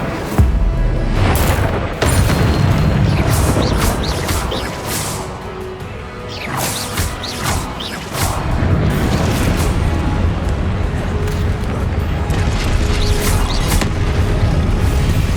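Incendio fire spell cast in the Hogwarts Legacy video game, a run of loud crashing blasts and smashes with whooshing bursts that recur throughout amid continuous combat noise.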